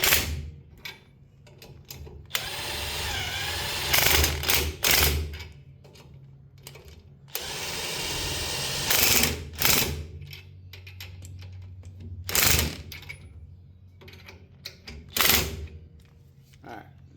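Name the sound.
impact wrench on level 2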